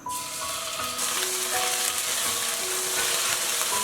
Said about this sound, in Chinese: 锅中倒点食用油，再来点豆瓣酱。